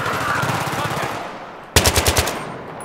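Battlefield 3 gunfire crackles in a sustained burst, then a louder close machine-gun volley of about five sharp rapid shots.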